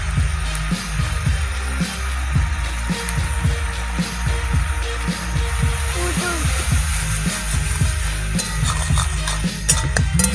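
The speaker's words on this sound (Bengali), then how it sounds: "মা মশলাটা ভালো করে কষিয়ে নিচ্ছে" Spice masala for handi chicken, with water, salt and turmeric, being stirred and sautéed in a pan, a steady soft sizzle with repeated scraping strokes of a spatula, continuous and close.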